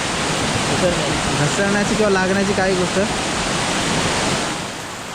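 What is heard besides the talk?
Chinchoti waterfall rushing water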